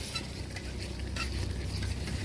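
Chicken curry masala being stirred in a pan gives a steady scraping and sizzling, close and continuous, with soft frying crackle underneath.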